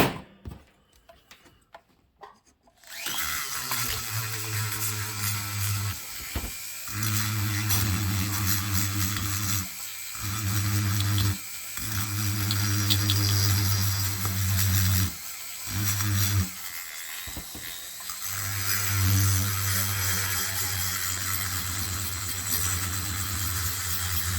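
Rotary burr grinding the transfer ports of a Stihl 038 Magnum chainsaw cylinder, a close, loud whining hum that starts after a few quiet seconds and runs in long passes broken by short pauses.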